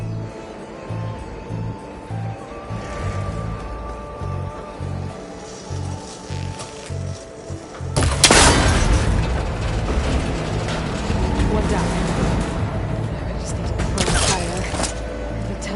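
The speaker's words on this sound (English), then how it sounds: "That connector's holding the cables together. It should break if I shoot it." An arrow strikes and breaks a cable connector in Horizon Forbidden West, a sudden sharp crack and crash partway through, following rhythmic mechanical pulsing and leaving a lingering rumble of debris and ambience.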